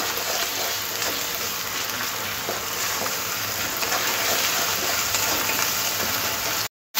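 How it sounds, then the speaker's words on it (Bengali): Salted tomatoes fry in a pan with a dense, constant sizzle and crackle, loud and unbroken, ending in an abrupt cut of silence just before the close. "টমেটোর কাঁচা গন্ধ যাওয়া অবধি টমেটোটাকে ভাজতে হবে।"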